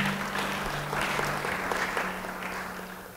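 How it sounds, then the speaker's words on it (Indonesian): Congregation clapping for God during a church sermon, a steady wash of applause filling the room with a low hum underneath, lasting a few seconds and slowly fading. "beri tepuk tangan buat Tuhan."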